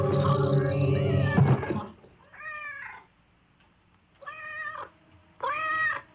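A cat meows three times in separate drawn-out calls after a loud burst of dramatic voices at the start of a live Halloween magic-show story, with the meows standing clear in quieter gaps.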